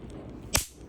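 A single sharp crack from a Diwali firecracker bursting nearby, short and loud against a quiet background.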